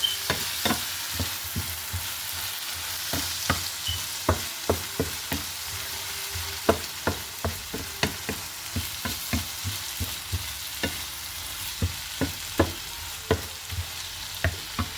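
Garlic honey chicken with dark soy sauce stir-frying in a pan: a continuous sizzle punctuated by rapid, regular scraping and clacking of a spatula, close and busy throughout.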